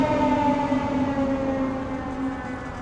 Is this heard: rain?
no